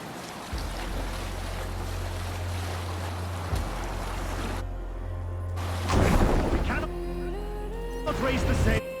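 A Viking sailing ship crosses the open sea in Assassin's Creed Valhalla, with a steady wash of waves and wind rushing around the hull, later joined by swells of splashing water and faint in-game tonal sounds.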